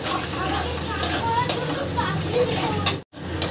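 Fried prawns are stirred in a hot pan of spice paste, giving a steady sizzle with a few sharp clinks of the utensil against the pan while someone talks over it.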